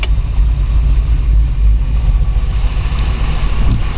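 A 1934 Ford 5W all-steel coupe hot rod engine idles with a steady, deep rumble, loud and close, holding an even throb throughout without talk.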